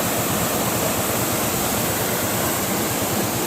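Floodwater after heavy rain rushes in a steady, dense roar, continuous and fairly loud, with no voices over it.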